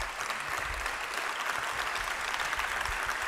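Steady audience applause fills the Teatro Jovellanos during a radio event, dense clapping from a large crowd sustained at an even level throughout with no voices on top.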